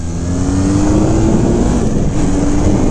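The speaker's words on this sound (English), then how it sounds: "Not very exciting in regards to the exhaust note." Loud, close 1981 Honda CM400T motorcycle engine droning and rising steadily in pitch as it revs, with a rough buzzing exhaust tone throughout.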